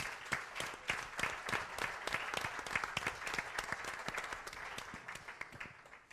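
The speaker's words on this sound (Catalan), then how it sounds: "Un aplaudiment per ells." An audience at a conference claps for a panel of speakers, dense individual claps forming steady applause that holds for several seconds and slowly tapers off.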